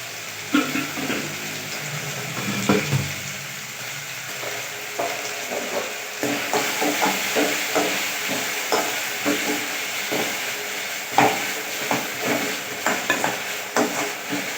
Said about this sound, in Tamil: தக்காளி வெங்காயம் கொஞ்சம் நல்லா வதங்கட்டும்